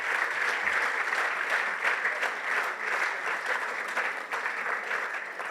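Audience at a referees' annual awards dinner claps steadily, a dense, even wash of applause that continues throughout without talking.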